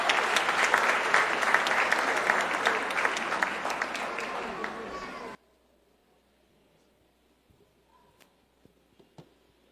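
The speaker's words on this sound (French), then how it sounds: "Je vous prie de les acclamer chaudement." An audience at a graduation ceremony gives warm applause to welcome the sponsors, a dense burst of clapping lasting about five seconds before stopping abruptly, followed by near silence with a few faint knocks.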